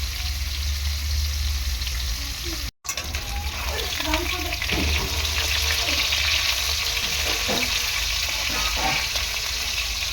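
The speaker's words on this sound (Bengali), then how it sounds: "শোল মাছ একটু হালকা কড়া করেই আমি মাছটা ভাজবো" Snakehead fish frying in hot oil, a steady loud sizzle throughout with a brief dropout near the start and occasional stirring or turning clinks.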